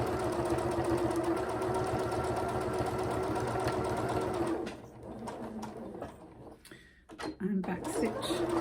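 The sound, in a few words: sewing machine stitching fabric advent calendar pockets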